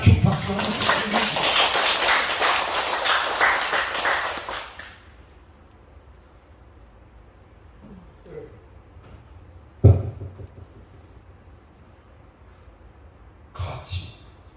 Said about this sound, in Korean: 이럴 때는 자축 박수 한번 주십니다